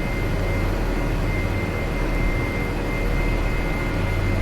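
A helicopter in the Prepar3D flight simulator game gives off a steady, loud, unbroken engine and rotor drone with a faint high whine, filling the whole stretch without any voices.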